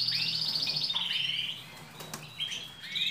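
Pet bird chirping and tweeting in a rapid run of bright high calls, close and clear with no talk, pausing briefly before a few more chirps.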